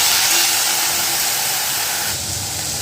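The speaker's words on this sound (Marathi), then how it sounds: "हा पण छान मंद गॅसवर परतून घेते हा पालक म्हणजे आपलं लसूण आणि पालक छान यामध्ये शिजलं जाईल" Garlic and spinach sautéing in a pan over a low gas flame, a loud, even, steamy hiss that fills the whole clip and softens slightly near the end, with no talking.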